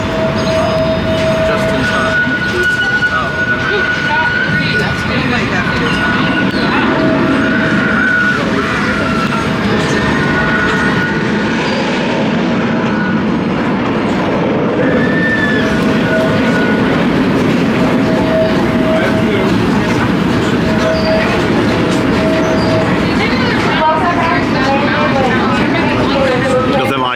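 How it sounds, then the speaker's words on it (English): Steam train pulling into the station at the Cedar Point amusement park, a continuous loud rumble with clattering wheels and a sustained whistle-like tone, with crowd chatter around it. "steam train pulling into the station"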